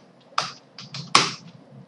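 Keys clack on a computer keyboard as a command is typed: a few sharp, close taps, with two louder strokes standing out among lighter ones.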